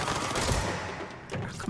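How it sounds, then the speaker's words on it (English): Dense, loud barrage of booming explosions in the game Control, overlapping blasts with a brief dip and a fresh burst near the end, no talk. "I'm gonna need this explosion shit to stop."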